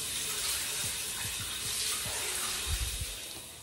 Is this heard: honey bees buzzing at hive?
no